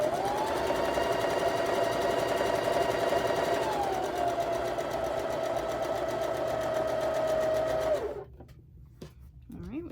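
Sewing machine stitching quilt block pieces, a fast steady mechanical whir with rapid needle rhythm running continuously for about eight seconds, then stopping abruptly into near quiet with a faint brief sound.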